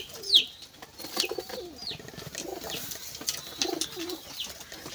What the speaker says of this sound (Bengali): এখানে একটা কবুতর আছে